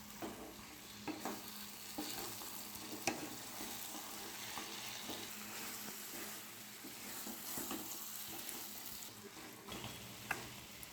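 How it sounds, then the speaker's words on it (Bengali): Fried chicken pieces are stirred into a cooked spice masala for Bengali-style butter chicken, a steady hiss of frying with scattered scraping clicks of the spoon in the pan throughout, moderately loud and with no voices. "চিকেনটা মশলার সাথে ভালো করে মিশিয়ে নেব।"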